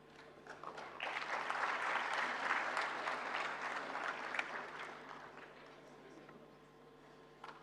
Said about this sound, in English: Guys, I want you all to give a round of applause.